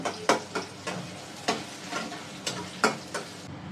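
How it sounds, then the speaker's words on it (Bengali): Chopped onions fry in hot oil in a pan for beef biryani, with a soft steady sizzle broken by sharp, irregular clicks and scrapes of stirring, close up with no talk. "পেঁয়াজটা ভালো করে ভেজে নিব।"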